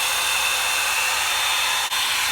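A Revlon hair dryer and volumizer runs on its low setting, a loud, steady broadband whoosh of blowing air with a faint whine, continuous apart from one momentary dip.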